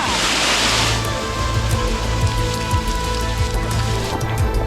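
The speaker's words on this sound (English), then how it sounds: "Now we've got the rain." Steady rain patters on surfaces nearby on a hiking trail in the Scottish Highlands, a dense continuous hiss with scattered drips and a low rushing undertone throughout.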